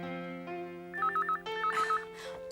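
A telephone rings with a warbling electronic trill, two bursts over a sustained musical tone, fairly close and clear.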